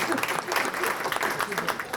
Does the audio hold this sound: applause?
yes